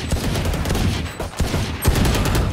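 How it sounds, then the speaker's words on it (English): Sustained burst of automatic gunfire in a first-person shooter round, dense, loud and continuous with brief dips between volleys. "Literally just randomly firing through a wall."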